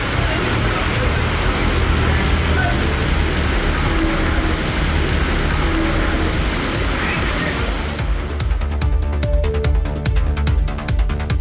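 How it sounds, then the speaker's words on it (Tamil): Heavy rain driven by strong wind around Walajapet, Arcot and Kaveripakkam in Tamil Nadu makes a dense, loud, continuous roar of downpour that thins near the end into sparser crackling taps. "பலத்த காற்றுடன் பெய்த மழையால் வாகன ஓட்டிகள் அவதியடைந்தனர்"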